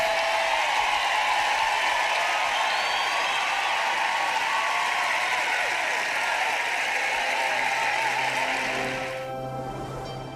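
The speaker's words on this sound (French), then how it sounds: "Applaudissons à Dave." Audience applause for Dave at a Joyce Meyer Ministries church service, a dense steady clapping that carries on for about nine seconds, then thins and fades toward the end, with no voices over it.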